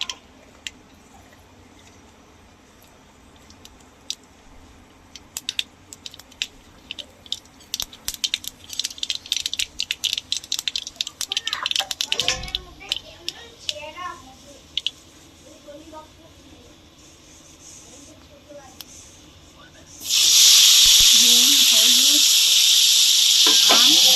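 Mustard seeds tempering in hot mustard oil for mango chutney: scattered sharp pops and crackles build into dense spattering, then a loud, steady sizzling hiss takes over near the end.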